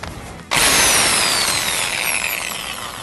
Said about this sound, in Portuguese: Tem que ter uma furadeira. Então a gente vai pegar a furadeira aqui